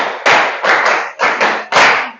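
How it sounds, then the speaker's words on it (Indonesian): Children in a classroom clapping together in a rhythmic pattern, sharp close group claps in short bursts with brief gaps between them, loud and clear with no talking. "tepuk 5 2 kali."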